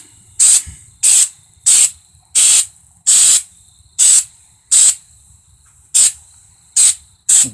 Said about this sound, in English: I'll show you me spraying some of this Flex Seal onto the bed of my truck.